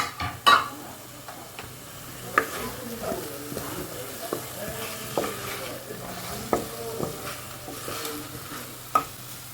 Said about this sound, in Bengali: চলো এটাকে একটু কষিয়ে নিই এক দু মিনিট এবার দেখো এইগুলো দিয়ে দিচ্ছি আলু আর ক্যাপসিকামটা